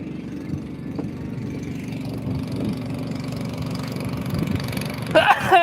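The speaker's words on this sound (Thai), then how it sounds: "เต็กเต็กเต็กเต็กเต็กเต็ก เต็กรถไถ" A tractor engine idles and runs nearby with a steady low mechanical drone, joined near the end by a brief burst of brighter noise and what sounds like a voice.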